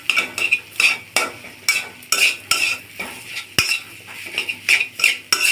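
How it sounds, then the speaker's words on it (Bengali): A utensil stirs boiled, peeled potato pieces into spices in a pan, making repeated scraping and clinking strokes in a steady rhythm, close up, with no talking. "মশলার সাথে আলুটা মিশিয়ে নিব।"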